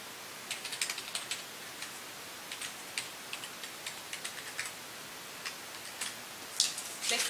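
A student ID and password are typed on a computer keyboard in quick, light clicking bursts with short pauses between them. The keystrokes are close but quiet, with no speech.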